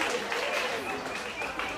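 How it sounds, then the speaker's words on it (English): At a school event honouring ten-year-old author Shaun Brown, an audience claps in a short, steady burst of applause, with voices faintly mixed in beneath the clapping. "I'll give him a round of applause for all that recognition that is given to our school"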